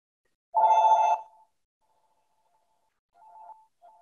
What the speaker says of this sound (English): I'm going to stop for this phone ringing for a sec.